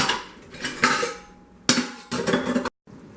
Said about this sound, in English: with a little rearranging, everything will fit in here, and I will have less dishes to hand wash